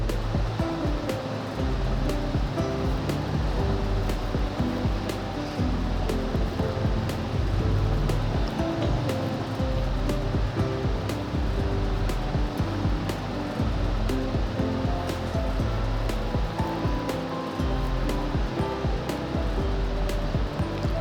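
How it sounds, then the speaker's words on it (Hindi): Diced potato pieces frying in hot oil give a steady, loud, dense sizzle that runs unbroken from start to finish, with no voices. "तो आलूओं को हम फ्राई कर लेंगे।"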